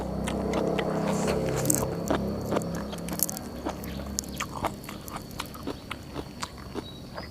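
Close, crisp crunching and biting of dry, crunchy Thai snacks, irregular chews repeating steadily with a faint hum behind.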